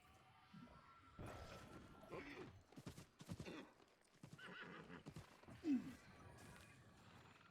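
A horse whinnies with a short high neigh amid clip-clopping hooves and clattering knocks, with a voice talking in between, all fairly faint and uneven.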